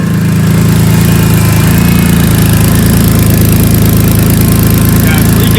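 BMW E46 M3 engine running with catless headers and an exhaust leak at the headers, a loud, continuous, close rumbling drone with a raspy edge that holds steady throughout.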